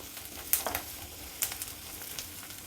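Curry leaves sizzle in hot oil with onion and garlic, a faint, steady frying hiss broken by a few sharp crackling pops, with no voices.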